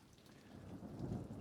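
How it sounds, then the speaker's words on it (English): Steady rain pours outdoors with a deep, rolling thunder rumble building underneath, dense and continuous across the whole stretch. "It's still raining out."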